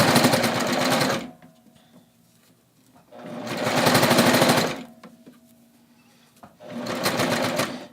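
A serger sewing machine stitches a sleeve hem in three loud, steady whirring runs, each lasting over a second, separated by quiet pauses with faint handling.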